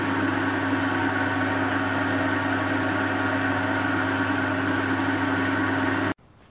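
A metal lathe spinning at 600 rpm, turning a 55 mm steel bar with a carbide insert meant for aluminium: a steady, loud mechanical hum with strong low tones, running continuously and then cutting off abruptly near the end.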